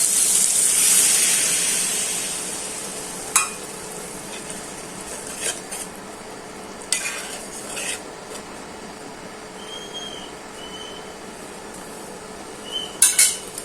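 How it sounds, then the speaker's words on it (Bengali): Water poured into fried spice masala in a pan while cooking a boiled egg bhuna curry, bursting into a loud hiss and sizzle that fades over a few seconds, followed by occasional sharp clinks of a utensil against the pan. "এখন জল দিয়ে দিচ্ছি।"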